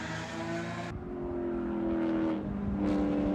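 A Screaming Goat Racing car in a World Racing League qualifying session at Barber drives through the right-hand turn 13, its engine droning and shifting pitch as it passes close by, with no voices.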